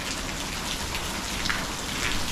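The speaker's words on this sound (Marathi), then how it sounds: "सकाळपासून पाऊस खूप चालू आहे" Heavy rain pours down steadily over a village, a dense close hiss of drops striking surfaces with no other sound.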